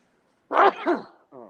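A single sharp sneeze bursts out after a moment of silence, followed by a brief tonal sound.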